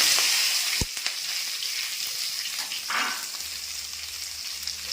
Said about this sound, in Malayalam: കടുക് പൊട്ടിക്കഴിയുമ്പോൾ അതുപോലെ നമ്മൾ പച്ചമുളക് ഇട്ട് കൊടുക്കുവാണ്.